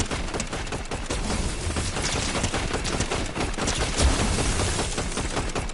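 Continuous rapid gunfire in the Fortnite video game on PS5, a dense, loud fusillade of overlapping shots running without pause.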